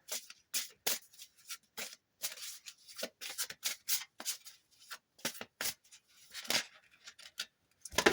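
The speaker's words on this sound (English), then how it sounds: "let me just get a good card shuffle here" A deck of playing cards being shuffled by hand, a rapid series of crisp riffling bursts and flutters at close range, irregular in rhythm, with no voices.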